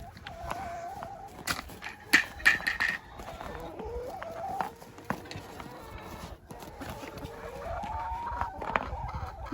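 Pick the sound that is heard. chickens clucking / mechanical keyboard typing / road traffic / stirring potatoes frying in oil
chickens clucking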